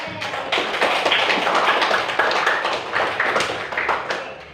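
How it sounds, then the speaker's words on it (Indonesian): A classroom group claps for a presentation by the first team, a dense steady patter of many hands that holds for several seconds at close range and then tapers slightly. "kita kasih aplaus untuk kelompok 1 atas presentasinya"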